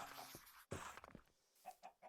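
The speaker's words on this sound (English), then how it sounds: "We have found a chicken!" A chicken in a modded Minecraft world gives soft, faint clucks scattered among other quiet game noises, a few short bursts near the start and end.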